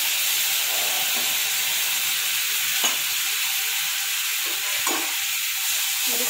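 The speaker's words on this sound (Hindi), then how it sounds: "इसको हम भून लेंगे अच्छे से।" Chilli potatoes frying with sauce in a hot pan, a loud, continuous sizzle and hiss with a couple of brief stirring scrapes, no voices.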